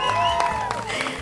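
Audience applause at a promotional event for the 2015 Bollywood film Dil Dhadakne Do, a brief, steady burst of clapping from a crowd with tonal music and voices mixed in.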